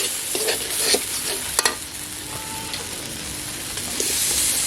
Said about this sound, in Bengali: বন্ধুরা আমার মশলাটা কষানো হয়ে গেছে দেখো তো আমি এখন এর মধ্যে দিয়ে দেবো আলুটা